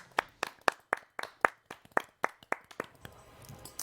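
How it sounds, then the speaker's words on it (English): A studio audience claps in a sparse, even rhythm of about a dozen distinct hand claps, faint and fairly close, fading into quiet room noise. "Round of applause."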